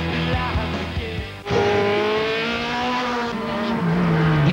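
Race car engines roar loudly at an Argentine auto racing championship, a sustained high-revving drone with a sharp jump in intensity partway through as cars pass close by.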